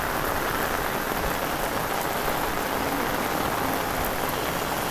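Heavy rain pours down in a street, a dense, loud, unbroken hiss of drops beating on surfaces, steady from start to finish with no voices.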